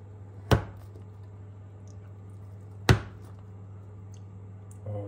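Two crisp, close chops spaced a few seconds apart as a wavy cutter slices through cold, stiff shortbread dough, each a brief sharp knock, with a faint low hum between.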